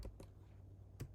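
Keys tapped on a computer keyboard in a few quick, isolated clicks: two near the start and another just before the end, close and fairly quiet over a low steady hum, with no talking.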